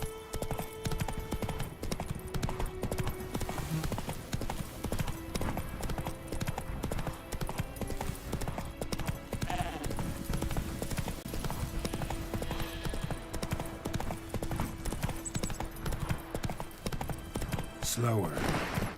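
Roach, a horse in The Witcher 3, trots with steady rhythmic clip-clop hoofbeats that run without a break for about nineteen seconds, with a voice speaking over them.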